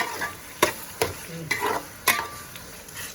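Tomatoes frying in a pan for a chicken curry, with a steady sizzle broken by several sharp stirring scrapes and clatters of a utensil, close and fairly loud, with no voices.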